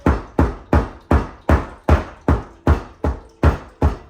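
A knife is struck through a corn cob covered by a towel, giving eleven evenly spaced dull, muffled knocks at a steady rhythm, close and fairly loud, with no talk.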